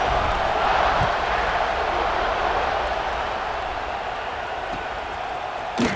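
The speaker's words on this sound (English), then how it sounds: "this crowd now ready to get behind them" A stadium crowd in the EA Sports College Football 26 video game roars in a steady, dense wash of cheering that holds for several seconds, with a brief sharper burst at the end.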